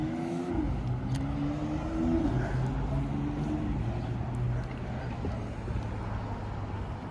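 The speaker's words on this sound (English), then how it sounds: "Apologies if the cars are absolutely abysmally loud." Steady, loud traffic rumble with engine drone and tonal hum, like cars passing close by, continuous throughout without a break.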